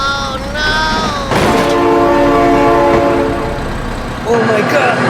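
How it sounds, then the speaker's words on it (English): Train horn blaring in the BeamNG.drive driving game, long loud harmonic blasts over rumbling rail noise, with shouting voices mixed in near the end. "Oh my god, train!"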